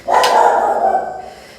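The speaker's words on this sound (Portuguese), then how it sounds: "Deixa o cachorro latir." A dog barks once, sharp and close, the bark trailing into a drawn-out whining yowl that fades away, with no one talking.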